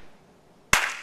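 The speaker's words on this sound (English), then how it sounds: "And then I clap." A single sharp hand clap during a line dance, landing after a short quiet pause.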